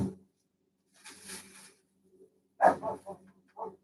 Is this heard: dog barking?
yes